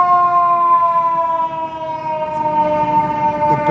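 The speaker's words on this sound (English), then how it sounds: "Always hearing sirens. That's New York in general. Fire truck somewhere." A fire truck siren at night in the Bronx, New York, a loud, steady wailing tone that slowly drops in pitch, with traffic rumble beneath and no talk.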